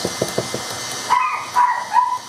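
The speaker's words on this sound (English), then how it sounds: "Excuse my dog. I don't know why he's barking." A few quick knocks give way to three short, high dog barks or yips close by, evenly spaced.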